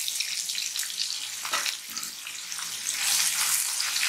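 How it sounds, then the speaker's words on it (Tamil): Chopped onions drop into hot oil in a pan while cooking a goat trotter paya, giving a steady, close hiss and sizzle with bursts of crackle that swell louder toward the end, no voices. "இப்போ இது பொரிஞ்சதும் நம்ம கட் பண்ணி வச்ச வெங்காயத்தை இதுக்குள்ள சேர்த்துக்கலாங்க."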